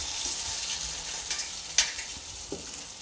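Round balls of urad dal vada batter fry in hot oil in a pan over a medium flame, giving a continuous soft sizzle with a few sharper crackles and pops, close by and with no talking.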